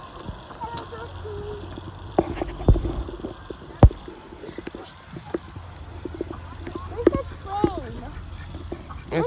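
Ducks quack intermittently in the background at a wildlife sanctuary while people talk nearby, with occasional knocks and thumps.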